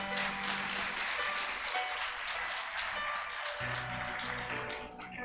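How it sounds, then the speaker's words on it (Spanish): A church congregation claps in praise of the Lord's name, sustained dense applause filling the room over background music and hum, fading slightly toward the close. "¿Cuántos aplauden el nombre del Señor?"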